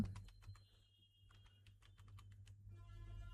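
Typing on a computer keyboard, a quick run of close, crisp key clicks with a short pause midway, then more tapping, quiet and without talk.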